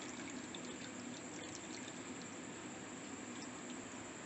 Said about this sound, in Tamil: 1 டம்ளர் 1/2 டம்ளர் தண்ணி ஊற்றணும்.